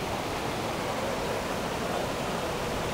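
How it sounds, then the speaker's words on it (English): A waterfall in a park gives a steady, broad rushing roar that holds unchanged from start to finish with no break or talk over it. "And there's a pretty waterfall."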